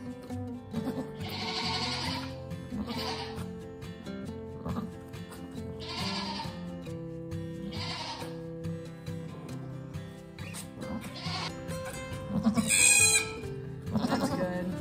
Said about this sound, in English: I promise, I am not hurting this little baby goat